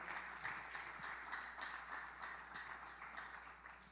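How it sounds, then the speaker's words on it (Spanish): A church congregation claps together in steady, even applause, heard faint and distant throughout with no voices over it. "Denle un aplauso fuerte a nuestro Padre Celestial"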